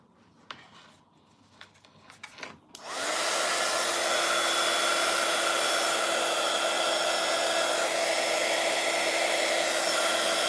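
A hair dryer drying gesso on a painting switches on after a few soft taps and handling noises, then blows loud and steady with a constant whirring hum.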